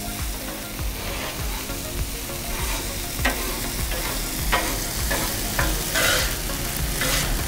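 Onions sizzle on a Blackstone griddle for chopped cheese, a steady loud crackle punctuated by rhythmic metal spatula scrapes and taps as they are worked in, no talking.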